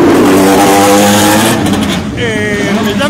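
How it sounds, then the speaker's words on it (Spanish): Touring cars from the Clase 2 Turismo Nacional category roar loudly past during qualifying practice, their engines revving hard and shifting pitch as they accelerate, while a commentator talks over the noise. "Sí, están acelerando todo, están fuerte todo."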